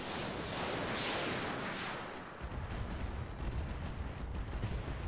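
Mech weapons firing at once in Roguetech BattleTech: a loud, dense roar of salvo fire and blasts, shifting partway into a rumbling series of impacts, with no voices.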